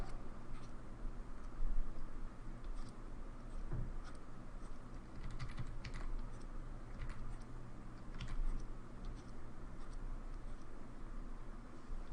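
A pen draws on a small Wacom One pen tablet (CTL-472) with faint, close scratchy strokes and light taps repeating irregularly over a quiet background.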